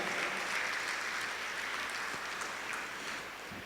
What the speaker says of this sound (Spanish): Dale otro aplauso al Señor por la bendita palabra